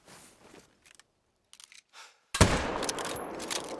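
A hunting rifle fires at a grizzly bear in the Yukon in theHunter: Call of the Wild. After quiet rustling comes one loud, close shot with a long rumbling echo that rolls away across open country.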